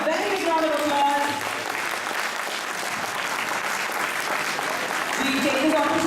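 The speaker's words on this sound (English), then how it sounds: "I think they deserve a very big round of applause." Audience applause after a Hindustani-Carnatic fusion bhajan performance, a steady dense wash of clapping holding for several seconds, with a voice talking over it at the start and again near the end.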